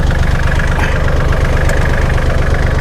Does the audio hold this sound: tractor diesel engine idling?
yes